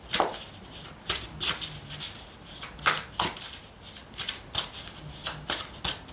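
Tarot cards are shuffled repeatedly in quick riffling bursts, close and crisp, with short pauses between each pass.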